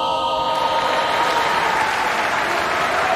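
Sustained applause from a school audience in a hall after a class performance, a dense steady wash of many hands clapping at even loudness for several seconds with no voices over it.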